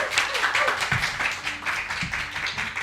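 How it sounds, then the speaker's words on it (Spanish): Live audience at a podcast recording clapping, a short burst of close, bright handclaps with a few louder individual claps standing out over the patter. "¿Puede haber otro aplauso?"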